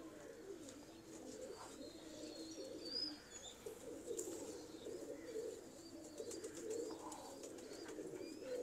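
Fine paired pigeons in a loft coo continuously and close by, a low, steady murmur with occasional light chirps over the top.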